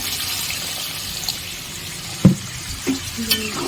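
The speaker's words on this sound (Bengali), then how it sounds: "দেখো জল দিয়ে দিচ্ছি, কারণ মাংসটা হয়ে গেছে" Water poured into a pan of browned chicken and spice mixture for a curry, with a steady sizzling hiss and a few sharp splashes and spatters near the end.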